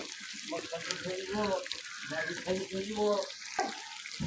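Water poured into a pot of chicken curry with papaya and potatoes, a soft splashing pour against a faint sizzle, with a person talking over it.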